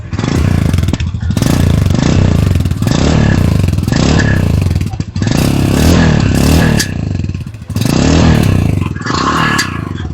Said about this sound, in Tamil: இப்போ இந்த புது இன்ஜினோட எக்ஸாஸ்ட் நோட் எப்படி இருக்கு அப்படிங்கறத பார்க்கலாம்.